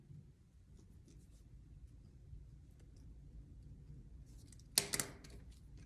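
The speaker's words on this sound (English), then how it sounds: "I'm going to put it on the fabric and just draw around it with a friction pen" A friction pen scratches softly as it traces around a template on quilting fabric. The strokes are faint and close over a low background hum, and one louder knock or rustle comes near the end.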